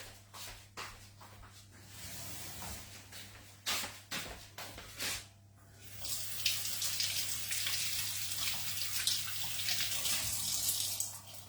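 Kitchen tap water runs and splashes while a utensil is rinsed under it in a home kitchen during apricot tart baking, starting with intermittent bursts, then a steady, louder broadband gush for the last half.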